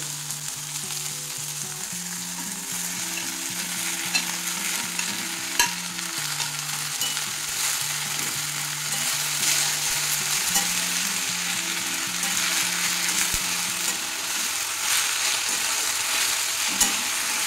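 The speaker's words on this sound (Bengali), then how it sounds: "পেঁয়াজগুলো খুব ভাজতে হবে না, হালকা ভাজা থাকবে।" Continuous sizzling of onions and agastya (hummingbird tree) flowers in a frying pan, a steady hot crackle with occasional stirring scrapes and a low hum underneath.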